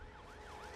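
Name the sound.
ambulance siren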